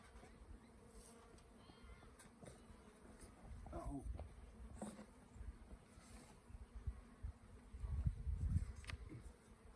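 Bees buzzing close around a person near a new chicken coop, faint intermittent drones passing in and out amid soft outdoor background, with brief louder swells as insects fly near.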